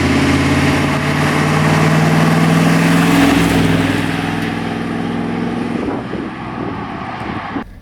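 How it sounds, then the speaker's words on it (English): A Ford 6.9 IDI diesel truck engine runs with a steady droning hum at a constant pitch, loud at first and then easing off, with a brief rise near the end. "the engine sounds pretty consistent throughout the RPM range"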